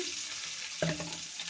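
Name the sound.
chopped onion frying in soybean oil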